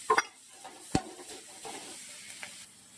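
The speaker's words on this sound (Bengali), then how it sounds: "চিনি, একটু হিং, এটা ভালো করে কষে নেবো।" Spices with sugar and asafoetida sautéed and stirred in a pan, a few sharp scrapes of the spoon over a faint sizzle, close up and brief.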